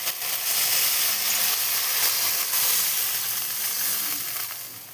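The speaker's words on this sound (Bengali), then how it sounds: "এবার জল দিয়ে দেবো পরিমাণ মতো।" Water hits a hot pan of fried spices for Katla fish kalia, setting off a loud, dense, hissing sizzle that holds steady close up before easing slightly toward the end.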